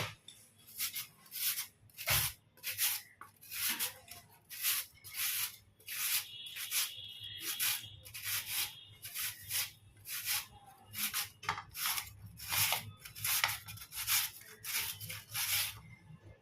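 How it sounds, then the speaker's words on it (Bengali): Potatoes are scraped lengthwise over a grater in steady, rhythmic strokes, each one a crisp rasping swipe, close and clear with short pauses between passes and no talking. "এভাবে আমি সবগুলো চারটে আলু গ্রেড করে নিচ্ছি"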